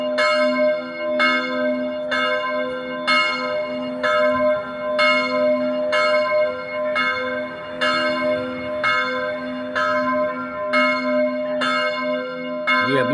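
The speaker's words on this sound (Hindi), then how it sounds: "ये अभी घंटी बज रही है" A church bell rings outside an old Italian church, an archaeological site with frescoes: about a dozen loud, resonant strikes at an even, steady pace, each one ringing into the next, with no talk.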